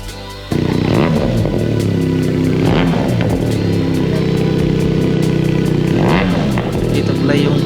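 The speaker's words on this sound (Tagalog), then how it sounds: "isang dual cylinder na motor na tunog big bike." QJ SRT 400cc dual-cylinder motorcycle engine running loud and close, a steady idle with repeated revving swells, heard on its own.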